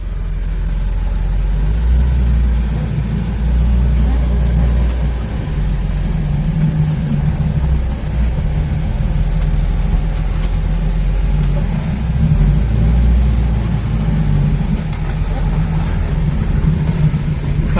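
A Toyota Corolla KE20 with a five-speed manual gearbox drones steadily from inside the cabin while driving, a low, even engine note holding throughout with slight rises and falls in revs.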